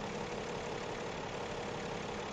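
A tractor engine idles in Farming Simulator 17 on PS4, a steady, dense, unbroken drone that holds at an even loudness throughout with no voices over it.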